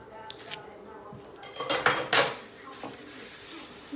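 Potato and beef patty mixture being stirred and mashed in a bowl, soft scraping and clinking of a utensil against the bowl, with a louder cluster of clatter in the middle, no talk.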